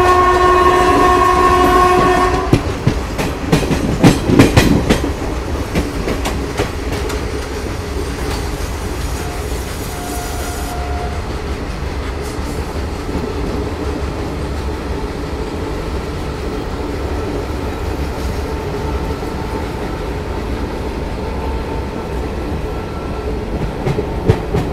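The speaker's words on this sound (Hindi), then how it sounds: "ये देखो, एक ये मालगाड़ी इधर से जा रही है, एक वो वहाँ से आ रही है।" Freight trains on a railway line pass alongside a moving passenger express, with a loud horn blast early on, then a steady close rumble and clatter of wagons that continues to the end.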